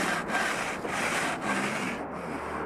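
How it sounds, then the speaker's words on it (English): Aluminum cylinder head being slid back and forth on 100 grit sandpaper glued to a flat surface: a steady, loud rasping scrape in rhythmic strokes, each pass marked by brief pauses, with no talking. "This time we're gonna move the cylinder head on the sandpaper."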